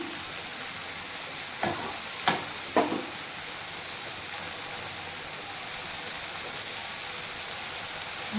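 Chopped onion, crushed garlic and black cumin sizzle steadily in a hot pan, a continuous close frying hiss broken by three brief clatters of stirring early on.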